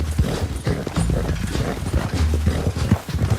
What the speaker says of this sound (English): So nice to see these two horses together.